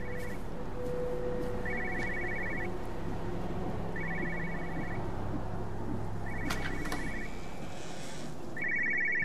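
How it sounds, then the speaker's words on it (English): A telephone rings inside a house in the video game Everybody's Gone to the Rapture, with repeated short electronic trill bursts at regular intervals over a low ambient hum, fairly close and clear. "I can hear your phone"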